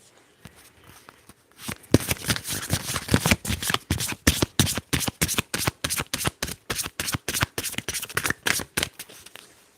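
Tarot cards being shuffled close up, a fast, even run of crisp riffling flicks that starts faintly and then continues steadily for several seconds with no talk.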